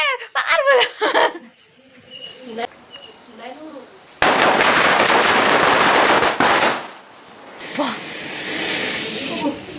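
Loud crackling bursts of Deepavali firecrackers, sharp popping and hissing sprays that come in waves, with voices talking in the first part.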